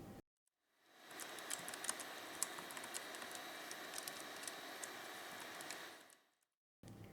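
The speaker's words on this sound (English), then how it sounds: "After that, a keyboard test." Typing on an HP Compaq nc4400 laptop keyboard, a quiet, rapid patter of soft key clicks running continuously for several seconds, close and faint, with silence before and after.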